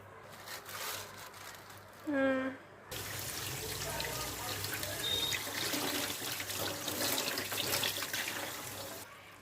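A kitchen tap runs steadily over raw meat being washed, a continuous splashing hiss that fills most of the stretch after a brief voice-like tone near the start.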